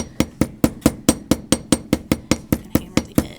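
A rounded hammer face strikes the edge of a metal washer to facet it, giving about fifteen sharp, evenly spaced metallic taps in a steady rhythm, close and loud with no talking.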